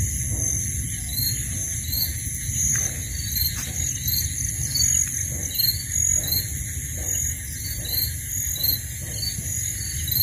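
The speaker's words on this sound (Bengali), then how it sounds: "তারপর তো ঝিঝি পোকার ডাক," Crickets chirp at night in a steady, high-pitched trill that carries on throughout, with a constant low rumble of background noise underneath.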